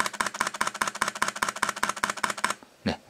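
A Nikon Z50 mirrorless camera shooting in high-speed continuous mode gives a rapid, even burst of sharp shutter clicks for about two and a half seconds, close and loud, then stops.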